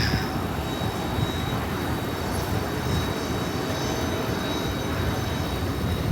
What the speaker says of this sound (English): And there's a plane heading out.